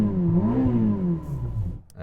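A Ferrari SF90 engine revs up and back down in a close, loud, continuous burst, its pitch rising and falling over a couple of seconds before trailing off.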